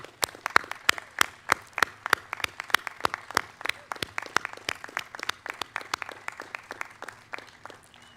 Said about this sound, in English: we're still going to welcome the class of 2021 with a round of applause